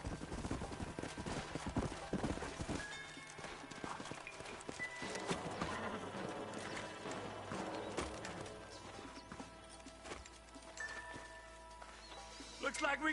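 Horse hooves clip-clopping in the video game Red Dead Redemption, a steady patter of hoofbeats mixed with gunfire-like crashes and game ambience, faint overall, with spoken dialogue over it.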